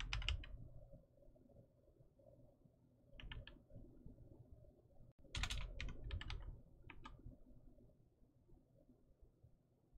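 Keys clack on a computer keyboard in short clustered bursts separated by pauses, quiet and close, with a low hum underneath.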